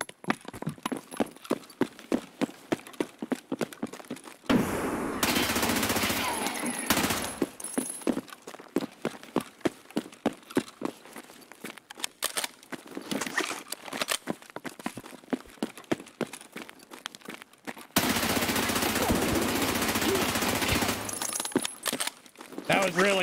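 Rapid bursts of gunfire from the player's weapon in a shooter game crackle in sharp repeated volleys, broken by louder stretches of sustained noise, while a person talks over parts of it.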